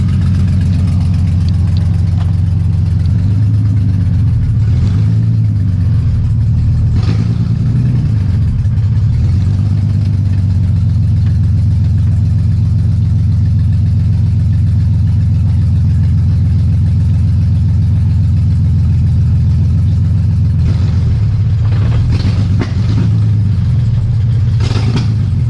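A Nissan S13 with a swapped VQ engine idles and rumbles steadily while moving under its own power, a loud, constant low engine drone with brief revs near the start and end.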